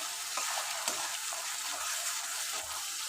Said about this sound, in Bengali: এটাকে কষাতে থাকবো